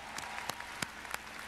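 Faint, sparse claps from an audience at a gaming convention in Anaheim, a handful of distinct, irregularly spaced hand claps heard quietly over a low background hum.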